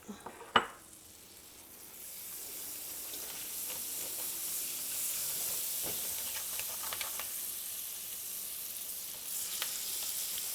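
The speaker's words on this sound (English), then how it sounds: "now we're going to add the butter in. We're going to melt that." Butter melting in a hot pan with browned chicken piccata meatballs gives a steady, close sizzle and frying hiss lasting throughout, opening with a sharp clank of the pan and followed by a few faint utensil taps, with no talking.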